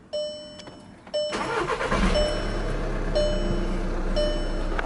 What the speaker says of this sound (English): We're gonna start it up and see how the car responds.